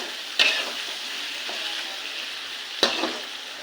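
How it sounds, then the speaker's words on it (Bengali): Fish roe fries in oil in a pan for a fish roe chorchori, giving a steady close sizzle, with two sharp spatula knocks as the roe is broken up. "মাছের ডিমটাকে একটু ভেঙে দেবো"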